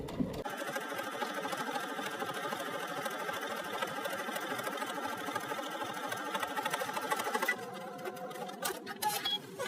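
A sewing machine runs steadily, stitching a seam onto the lining of a sundress, with a continuous close whir that slows and stutters near the end.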